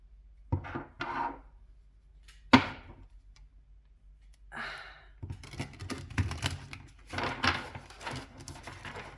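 Tarot cards being shuffled by hand, heard as several separate bursts of riffling, flicking and tapping card noise close to the mic, with a longer run of dense shuffling toward the end and quiet gaps between.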